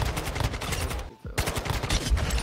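Rapid automatic fire from a Kastov 74u rifle in Warzone Mobile multiplayer, loud continuous bursts with a brief pause midway before firing resumes, no speech.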